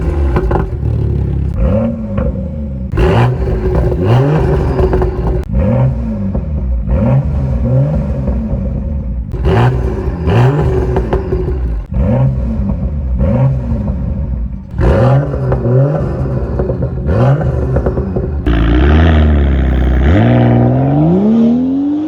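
A BMW M2 with a Stage 1 tuned N55 engine revs repeatedly in loud, sharp bursts, each rising and falling, with a final longer rev that climbs higher at the end.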